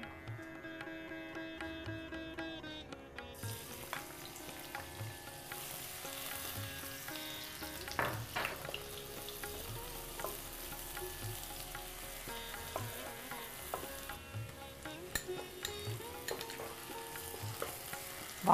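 Oil heating in a pan for a kaju chicken dish gives a steady crackling sizzle that thickens after a few seconds, with occasional clinks and stirring noises over a low hum, close and continuous.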